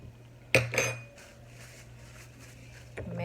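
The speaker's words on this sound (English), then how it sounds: "Mix that up a little bit." A utensil clinks against a dish while lime juice is stirred for Asian lettuce wraps, giving a couple of sharp taps close up, then soft scraping and another tap at the end.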